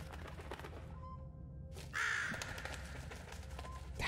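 A crow caws harshly inside a run-down clock tower in the puzzle game The Room Three, one loud, rasping call rising over a low ambient hum and faint mechanical ticking.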